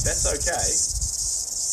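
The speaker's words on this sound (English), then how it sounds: "when I come back, the cicadas will have stopped" Cicadas drone outdoors in a steady, loud high-pitched buzz that carries on throughout, while a voice speaks briefly over it.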